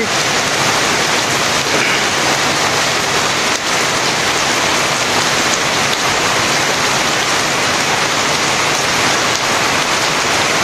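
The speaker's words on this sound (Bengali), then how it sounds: "আবার এই যে এখন আবার বৃষ্টি শুরু হয়েছে" Heavy rain pouring down outdoors in a village, a loud, dense and unbroken roar of water hitting surfaces that holds steady throughout.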